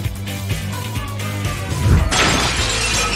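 Glass breaks with a sudden bright shatter after a low thud, followed by a lingering crackling spray of fragments, close and loud over faint background music.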